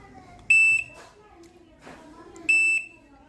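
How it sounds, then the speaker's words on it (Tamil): Control board buzzer on an LG double door inverter refrigerator sounding on a test press: two sharp, loud electronic beeps about two seconds apart, with low background hum and faint clatter between them. "இந்த டெஸ்டிங் பட்டன் நீங்கள் அமுத்தினோடனே பஸர் சவுண்ட் 2 டைம் வந்துட்டு கம்ப்ரஸர் ஆன் ஆகிடும்"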